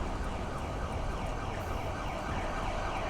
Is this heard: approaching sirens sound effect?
yes